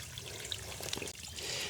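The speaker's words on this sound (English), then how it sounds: "See how the water's flowing right there?" Water trickles and flows from a natural spring source along the Appalachian Trail, a soft, continuous splashing close by, with no voices.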